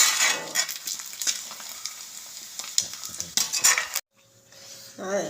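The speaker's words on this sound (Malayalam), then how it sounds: "വേവിച്ചിട്ട് അതൊന്ന് വറുത്തെടുക്കുകയാണ്," Boiled beef pieces being fried in a pan to drive off moisture for beef pickle, with stirring clatter of a utensil against the pan over a steady close sizzle; the frying stops abruptly near the end before a brief quieter clink.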